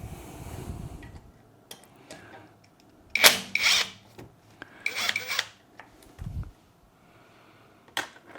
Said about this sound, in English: So I've got an Allen key point here on an impact drill. I'm just going to loosen these two bolts